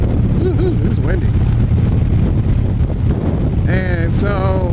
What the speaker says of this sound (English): Woohoo, it's windy.